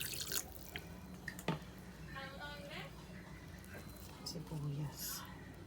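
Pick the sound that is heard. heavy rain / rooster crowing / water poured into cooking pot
water poured into cooking pot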